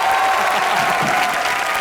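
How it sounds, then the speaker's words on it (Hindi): Dense, enthusiastic applause from the studio audience of the TV comedy show Comedy Nights Live, a brief, loud wash of clapping with a hint of crowd noise. "जोरदार तालियां।"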